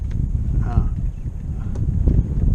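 Steady wind buffeting the microphone aboard a small sailing boat, a low constant rush with faint creaks and a person speaking under it.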